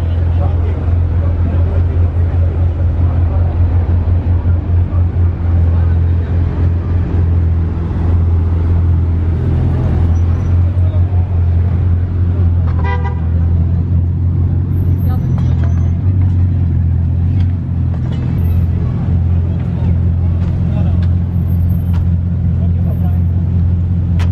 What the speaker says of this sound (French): il y a déjà la Bugatti Chiron qui arrive en convoi